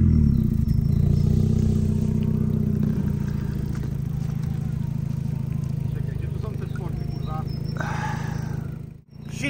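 A Renault Megane Trophy RS with a 350 hp engine and stock exhaust gives a loud, steady, deep rumble close to the car, holding its drone for several seconds before briefly cutting out near the end.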